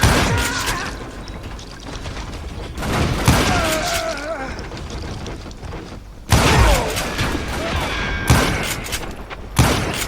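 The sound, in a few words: rifle gunfire in Call of Juarez Gunslinger video game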